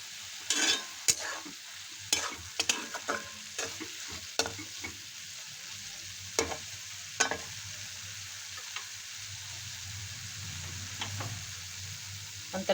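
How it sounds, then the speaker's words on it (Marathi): Tomatoes and mushrooms fry in a pan, with a low sizzle under a run of spoon scrapes and taps that come every second or so, close and fairly quiet, with no talking. "टोमॅटो शिजेपर्यंत परतून घ्यायचं. असं 2 मिनटं शिजवून घ्यायचं आहे."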